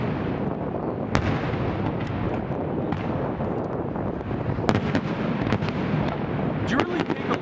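A Loyalist Day fireworks display in Saint John, New Brunswick: a steady rumble with sharp bursts and crackles going off at scattered intervals, while people talk throughout.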